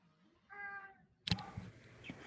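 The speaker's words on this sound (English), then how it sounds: "Your kitten is very noisy." A kitten in a visual novel game gives a single clear, high meow lasting under half a second, then a louder burst of clattering, rustling sound follows.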